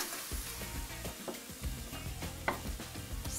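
Pad Thai with egg stir-fried in a hot pan, with a steady close sizzle broken by repeated scraping and clattering strokes of a spatula as everything is mixed together.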